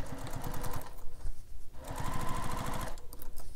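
A sewing machine stitches a carryall bag up close in a continuous run, its rapid needle chatter dipping briefly at moments before carrying on.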